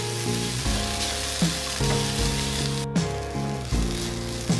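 Grated coconut and snake gourd fry in a pan for a South Indian style dish, a steady sizzle with soft periodic scraping as the mix is stirred, close and alone without talk.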